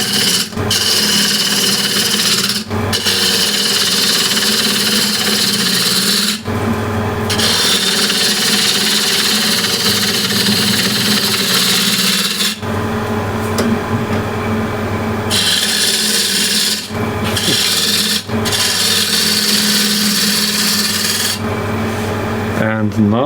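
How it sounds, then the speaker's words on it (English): A spindle gouge cutting a piece of Osage orange wood turning on a lathe, loud continuous shearing and rasping in long passes broken by brief pauses as the tool lifts off. "what I want to do now is from this line to this reference line make a straight line, and I'll do that with spindle gouge"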